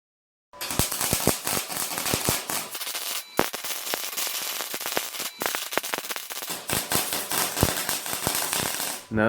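Welding legs onto steel weld table plates: dense, crackling sizzle with sharp pops, loud and close, running almost continuously after a brief silent start with only short pauses.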